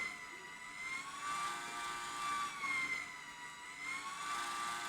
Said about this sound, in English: the motor will drive all the way to each end of its limits to determine its maximum travel